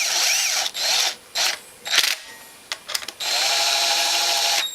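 Power tool running in several short bursts while tightening bolts during a gear reduction install on a Honda Fourtrax 300 ATV, with a longer final run, close and fairly loud with no talk.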